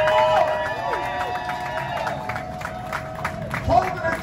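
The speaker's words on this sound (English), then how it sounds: "let's give a nice round of applause to Big" Comedy show audience applauding for the opening act, a dense crowd of clapping and cheering heard up close, with a voice over a microphone partly above it.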